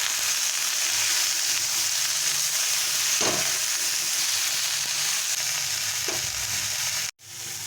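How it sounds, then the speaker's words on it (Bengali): Spinach and vegetables fry in a pan as turmeric is stirred in, a loud steady sizzle with a few scraping stirs of a spoon, cutting out abruptly near the end. "হাফ টিস্পুন হলুদ দিয়ে ভালো করে মিশিয়ে নেবো"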